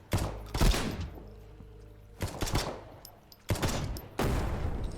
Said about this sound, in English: Start sniping.